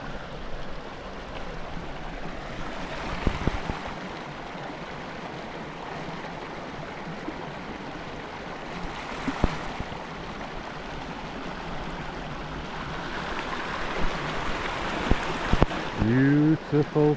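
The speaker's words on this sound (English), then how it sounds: "Beautiful Slickrock Creek." Steady rushing of Slickrock Creek in the Joyce Kilmer-Slickrock Wilderness fills the scene, a constant broadband wash with a few brief knocks and a faint voice near the end.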